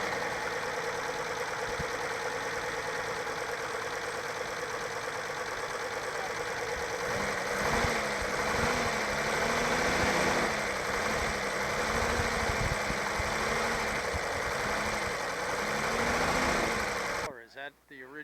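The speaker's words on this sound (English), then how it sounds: "then you had the steam in order to run the steam engine, which ran the poppers and the popcorn or the peanut roasters" Steam engine of a 1929 Dunbar popcorn wagon running its popcorn poppers, a steady mechanical chugging and hiss that holds throughout, loud and near, with a rhythmic pulsing in the middle before it cuts off at the end.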